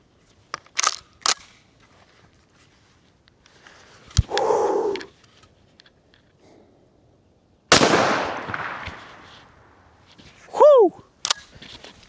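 A shotgun fires a 1 ounce slug at a target 20 feet away, giving sharp, loud blasts separated by quiet gaps, with a few other clicks and brief noises around them.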